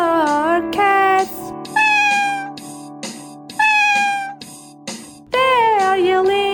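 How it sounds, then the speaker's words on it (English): Several cats on a farm meow loudly and close up, a run of drawn-out, wavering cries following one another with short gaps, clear and alone with no talking. "In his farm there are cats."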